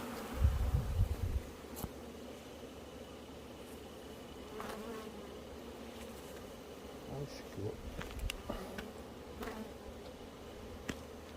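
Honeybees buzz steadily around beehives in an apiary, a close, continuous droning hum with individual bees flying past, plus a few soft knocks and a brief low thump at the start.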